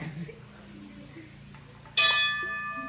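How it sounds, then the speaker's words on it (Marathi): A single bright temple bell strike rings out suddenly and clearly, its metallic tone lingering and slowly fading over a quiet background. "आणि माझ्या टाइमलाच घंटा वाजली"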